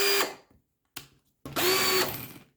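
A BLACK+DECKER BDASB18V two-speed hammer drill whines up loud and close in three bursts: a short run, a brief blip, then a longer steady spin before it cuts off.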